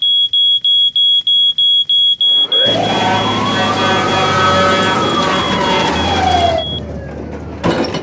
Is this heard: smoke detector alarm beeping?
yes